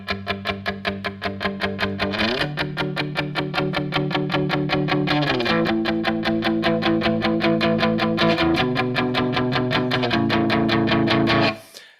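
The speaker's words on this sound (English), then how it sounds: "for the garage sound, I've added a reverb" An electric guitar through a reverb, garage-style tone plays rapid repeated picked notes in a steady rhythm, shifting chords every couple of seconds, with a gritty, reverberant sound.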